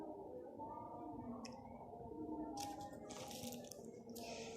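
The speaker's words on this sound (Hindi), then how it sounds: "ठीक है, हम इसे पानी के साथ अच्छी तरह गूंद लेंगे।" Soft wet squishing of semolina and flour dough being kneaded by hand with water for golgappa, faint and close, with a few sharper slaps and dabs breaking through the low steady background.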